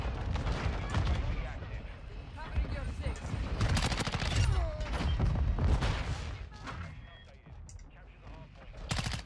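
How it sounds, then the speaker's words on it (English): Shotgun fire in the Call of Duty MW2 video game (Season 3) comes as a dense, continuous barrage of shots and booms, with loud overlapping blasts throughout and a slight easing toward the end. "That's all you're seeing, people using shotguns."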